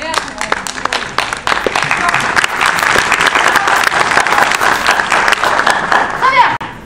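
An audience at a Festhéa 2014 theatre festival performance applauds loudly and continuously for several seconds, with speech heard over the clapping.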